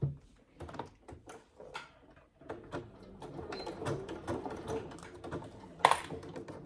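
Sewing machine running a long basting stitch to attach piping for a saddle bag, in short mechanical bursts of rapid stitching with pauses between, close and moderately loud.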